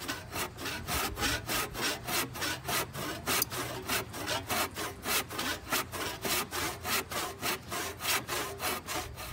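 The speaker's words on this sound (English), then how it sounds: "Okay, the legs are sawed," A hand saw cuts through wooden table legs in a steady, even back-and-forth rhythm, each rasping stroke close and clear with no talking.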